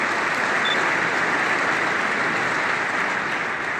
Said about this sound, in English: Please give the government a round of applause